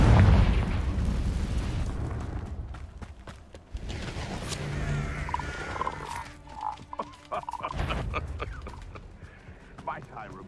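Confringo fire spell explosions in Hogwarts Legacy on PS5, a loud burst at the start followed by several smaller popping blasts and crackles amid game sounds and short voice calls.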